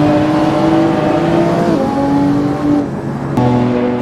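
Loud, sustained engine note from a 759-horsepower petrol Lamborghini Aventador SV on the Top Gear Test Track in Assetto Corsa, climbing steadily, then dipping at two quick gear shifts before pulling hard again.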